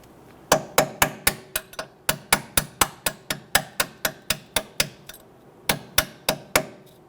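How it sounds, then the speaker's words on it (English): A hammer strikes a punch to tap out a front strut bolt on a 2012-2019 Fiat 500, about two dozen sharp metallic blows in a steady rhythm with a short pause near the end, close and loud. "you can use a punch here to go ahead and tap this bolt out"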